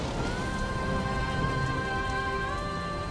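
Steady rain falls in a continuous wash of patter, with a faint tonal drone running underneath it throughout.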